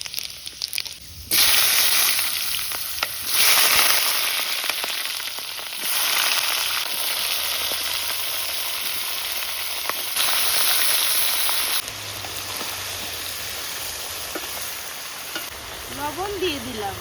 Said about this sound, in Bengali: এবার তেল দিয়ে দিচ্ছি, কড়াই গরম হয়ে গেছে। 5 ফোড়ন দিয়ে দিলাম,